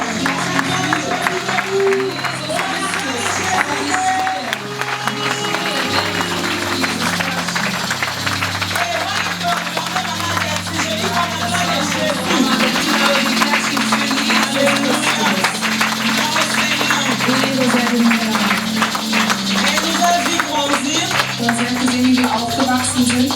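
A church congregation applauds in acclamation of Jesus Christ, with sustained, dense clapping and crowd noise that continues steadily under a speaking voice and background music.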